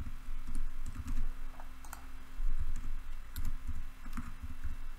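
Rapid, irregular clicking of computer keyboard keys as an email address and password are typed, close and steady over a faint room hum, with no voices.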